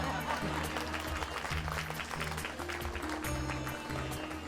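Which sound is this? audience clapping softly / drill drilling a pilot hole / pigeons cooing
audience clapping softly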